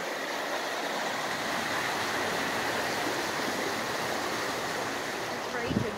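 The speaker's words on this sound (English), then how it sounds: "Right over here is the creek." A raging creek rushes loudly and steadily, a dense, unbroken roar of fast-flowing water that fills the whole stretch without pause.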